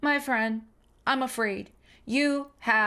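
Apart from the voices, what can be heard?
No everyday noises stand out.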